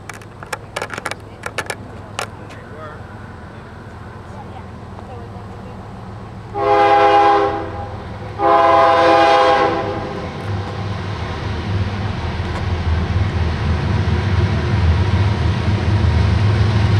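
A passenger train rumbles past nearby, sounding its horn in two long blasts, with the rolling rumble growing louder toward the end.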